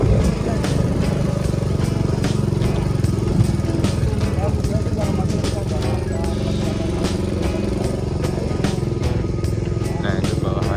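An ojek motorcycle taxi engine runs steadily throughout on a mountain road up to Sikunir near Dieng, loud and close with a rattly, continuous drone.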